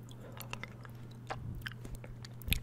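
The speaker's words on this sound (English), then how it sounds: "I'm currently chewing on this cherry jawbreaker" Someone chews a cherry jawbreaker candy up close in a quiet room, with soft crunching and clicking bites at an irregular pace and a sharper crack near the end.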